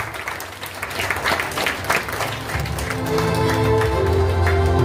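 An audience at an award ceremony claps through several seconds. The applause builds from scattered claps into a fuller, steady round near the end.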